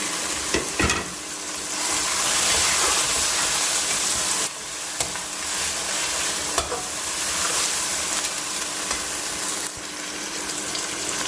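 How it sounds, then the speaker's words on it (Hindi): Chicken frying for biryani in a pan gives a steady, loud sizzling hiss with occasional stirring scrapes and brief crackling bursts, and nobody speaks. "और साथ में हमने अब ऐड कर दिया इसमें चिकन।"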